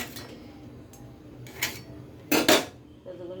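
A metal lid goes onto a pot of chilli soybean in a home kitchen, making a few brief clanks and scrapes, the loudest near the end, with quiet gaps between.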